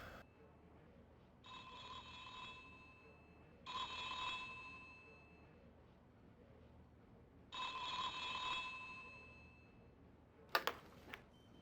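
A phone rings in The X-Files video game: three separate electronic trilling bursts, each lasting about a second or more, with pauses between them, followed by a brief click at the end, all against a quiet background.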